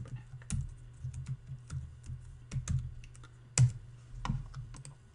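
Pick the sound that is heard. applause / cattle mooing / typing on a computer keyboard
typing on a computer keyboard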